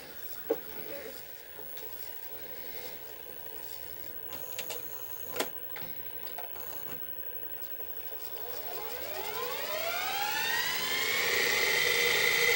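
A machine polishes VHS tape with a steady whirring drone that rises in pitch and grows louder as it spins up, with a few clicks and handling knocks before it.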